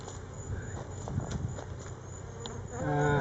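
A close, steady buzzing of many honey bees around an open hive hums continuously, with faint rustling and a louder drone swelling at the end.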